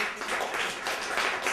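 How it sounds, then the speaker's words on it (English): Audience applause for the mayor at a senior center donation event: a dense, steady wash of many hands clapping, moderately loud throughout. "Give him a big round of applause"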